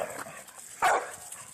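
A puppy gives a single short, sharp bark or yip, close by and fairly loud, with faint whimpering and quiet room noise around it.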